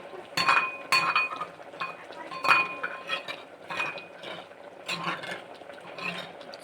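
A spoon clinks against a pot while mixing a bamboo shoot dish, repeated bright metallic taps in an irregular rhythm, close and moderately loud, with no talk.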